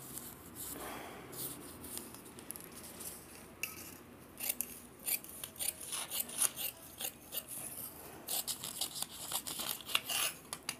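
Scissors snip through blouse sleeve fabric in a series of crisp, close cuts and crinkly rustles that speed up in the second half, with no talking.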